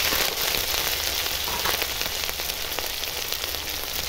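Eggless flour-batter omelette crackling and spattering loudly in a hot frying pan, a dense continuous hiss of popping oil throughout, with no talking.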